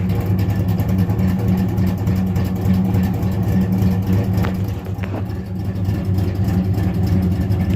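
A rebuilt 355 V8 in a car idles steadily, a loud, continuous low rumble with no pauses or revving surges.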